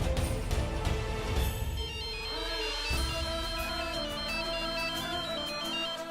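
A phone ringtone plays continuously and goes unanswered, a steady electronic melody under a faint background music bed in an indoor domestic scene from a Hindi TV serial.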